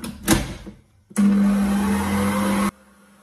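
Electric blender mixing lemon tart filling, starting abruptly after a brief clatter and whirring loudly and steadily for about a second and a half before cutting off.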